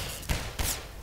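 Two sharp gunshots from the video game Half-Life 2 ring out about a third of a second apart, punchy and moderately loud over a low background hum.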